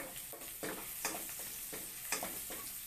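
Garlic frying in oil in a pan for a Thai fish and Chinese celery stir-fry, a faint steady sizzle broken by repeated soft scraping strokes as it is stirred.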